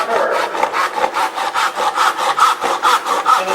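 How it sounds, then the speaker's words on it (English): A hand saw cuts a kerf in wood with a fast, steady rhythm of rasping back-and-forth strokes, close and clear with no talking. "So I'm just going to cut this kerf."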